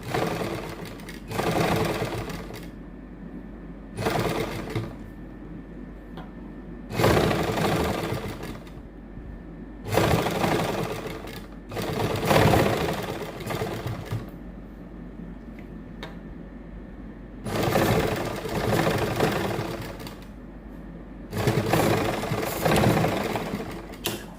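A sewing machine stitches a flower design onto a suit in repeated bursts of fast mechanical whirring, each a second or two long and separated by brief quiet gaps, close and steady with no talk.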